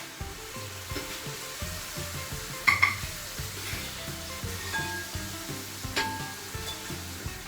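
Raw dates go into a hot, bubbling pickle mixture in a pan and get stirred. A steady, soft sizzle runs under rhythmic stirring, with a single short clink midway.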